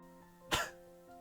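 A single dry, throaty cough or throat clear bursts out near the middle of the clip, brief and fairly close, over a faint steady background hum with no talk.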